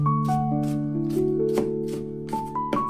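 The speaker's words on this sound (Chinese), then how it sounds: "接下来就是要准备一些大蒜，给它切成蒜片。" A kitchen knife slices peeled garlic cloves into thin pieces on a cutting board, giving a handful of crisp, close cuts spaced unevenly over steady background music.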